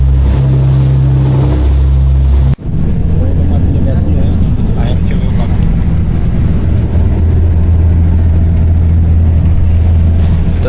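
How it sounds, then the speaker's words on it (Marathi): Ferry boat crossing from Mandwa to Gateway with its engine running, a steady low drone heard from the rear deck, loud and continuous with wind and water noise; a brief dropout early on, and faint voices murmur underneath. "आमची बोट निघाली आहे."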